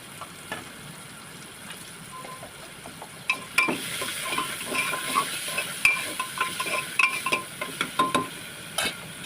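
Sprouted legumes spread in hot oil with salt sizzle steadily in a pan, with a continuous frying hiss under frequent spoon scrapes and light metal clinks that grow busier toward the end.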